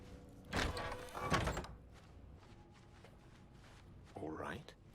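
A door opening in Baldur's Gate 3, a close wooden creak and heavy thud near the start, followed by quieter ambience and a shorter scraping swing at the end, with a voice speaking briefly.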